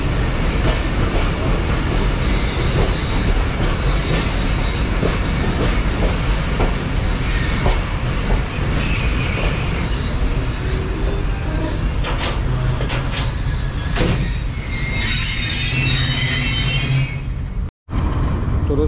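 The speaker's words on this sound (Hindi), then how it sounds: "तो ये था मेरा सफ़र रहीमिया खान से लेकर कराची तक का GU4903 के साथ तेज़गाम एक्सप्रेस में।" Tezgam Express passenger train rolling on rails between Rahim Yar Khan and Karachi, a loud continuous rumble heard from inside with clattering wheels and high squeals, then a sudden brief dropout near the end.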